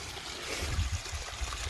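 Creek water flowing in a brief, faint, steady rush with soft low gurgles underneath, heard alone.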